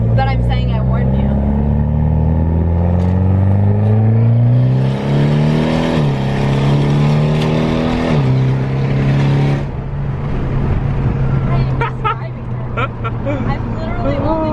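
A straight-piped Mitsubishi Evo 10 with open dump downpipe and test pipe, heard from inside while driving: loud exhaust climbing in pitch through the gears, shifting, then settling to a lower drone, with people talking over it.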